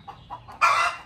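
Chickens cluck close by: a couple of soft, brief clucks, then a louder, denser burst of squawking clucks in the final half-second.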